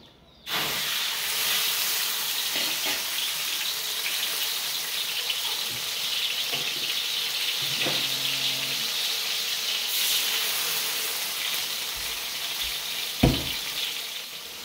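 Vegetables sauté in a little oil in a pan as tomato and eggplant go in, making a continuous close hiss and sizzle with a few soft clinks and a sharp knock near the end, with no voices.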